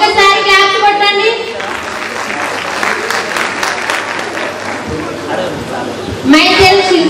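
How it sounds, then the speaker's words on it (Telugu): An audience of people at a meeting claps loudly and steadily for several seconds, a dense crowd applause that rises and fades, with a voice speaking over the start and end. "ఒక్కసారి క్లాప్స్ కొట్టండి"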